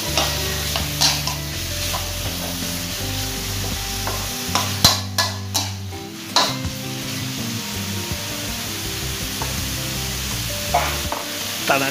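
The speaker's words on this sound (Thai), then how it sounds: "จากนั้นนะครับผมก็จะใส่หมูชิ้นลงไปเลยนะครับจากนั้นนะครับก็ทำการผัดนะครับหมูให้เข้ากับพริกแกงนะครับ" Pork pieces stir-fried with red curry paste in a pan, a steady loud sizzle broken by the scrape and clatter of a spatula stirring, for long beans in curry paste.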